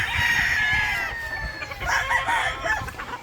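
A rooster crows loudly and close by among clucking chickens at a breeder farm, the long strained call followed by short bursts of clucks.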